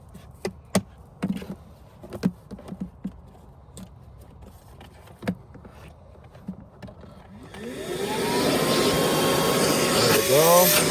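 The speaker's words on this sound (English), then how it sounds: "now let's go and actually turn on the vacuum here" Scattered taps and clicks give way to a Kelyee 3-gallon cordless wet/dry shop vacuum's motor whirring up and running loudly, its pitch rising and shifting near the end.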